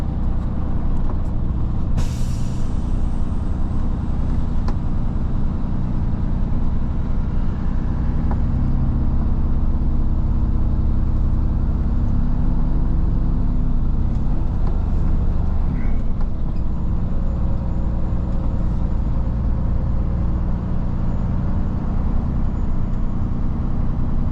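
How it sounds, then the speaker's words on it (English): Trucks and cars idle and rumble at a Petropass truck stop, making a loud, continuous low engine drone, with an air brake hissing sharply near the start. "Not too many trucks today at Petropass."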